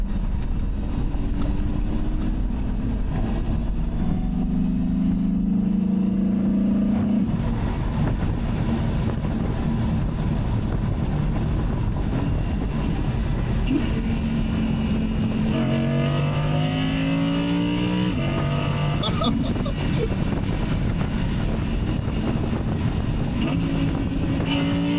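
A 2023 Audi R8 V10 Spyder in sport mode on a track revs and accelerates through rising, falling engine sweeps and gear changes, loud and close with heavy wind rush over the microphone.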